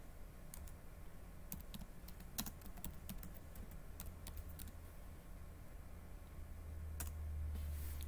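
Quiet, sparse clicking of keys on a computer keyboard while programming on Ubuntu, irregular single taps and short bursts over a soft steady room hum.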